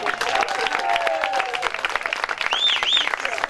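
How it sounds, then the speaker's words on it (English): A comedy show audience applauds loudly and continuously, with cheers and a few whistles rising through the clapping. "Give yourselves a round of applause."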